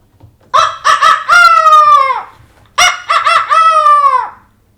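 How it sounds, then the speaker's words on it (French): A rooster perched on a fence crows loudly and close, two full cock-a-doodle-doo calls in succession, each ending in a long drawn-out note, against quiet surroundings. "Sur la barrière, le coq l'accueillit."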